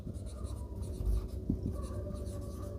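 A pen or marker writes a fraction during a class 7 maths lesson, producing a soft, continuous scratching close by with a couple of faint taps, and no talking over it.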